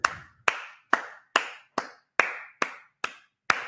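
Nine slow, evenly spaced hand claps ring out close and crisp, one person clapping a steady round of applause with short silences between the claps.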